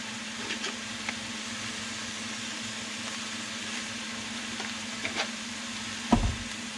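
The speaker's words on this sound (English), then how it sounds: "we're going to throw the onions in there" Onions with a little salt frying over medium heat in a pan with most of the fat drained out: a quiet, steady sizzle with a low background hum and a sharp clunk near the end.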